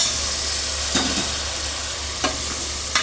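Mutton trotter pieces frying with turmeric in a pan, a loud continuous hiss with a low hum beneath, broken by a few brief stirring scrapes, close with no voices.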